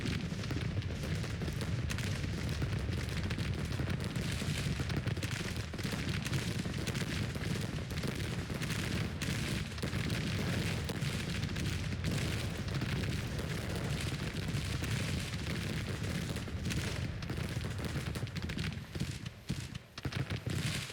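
Civil War cannon fire in the strategy game Grand Tactician: The Civil War rumbles as a dense, continuous din of distant booms and battle noise, loud and unbroken for the whole stretch.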